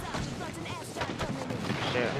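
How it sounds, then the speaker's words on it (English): Airstrike explosions pound nearby in Apex Legends, a dense run of heavy booms and crackling blasts piling over one another, loud and continuous with a voice briefly audible beneath. "Airstrike. Wait it out."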